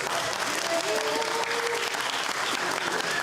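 Applause and crowd noise at a pool freediving world championship after a white card, a dense continuous roar of clapping with a faint whistle or cheer rising above it.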